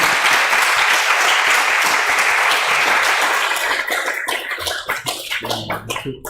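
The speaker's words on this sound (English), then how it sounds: "Big applause one more time for 화타원님." Loud, dense applause from a ceremony audience fills the room, then thins out into scattered claps near the end.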